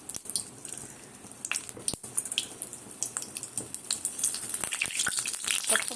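Chillies sizzle and crackle as they are dropped into hot oil in a home kitchen, with dense irregular spits and pops that build in intensity, close up and without talk.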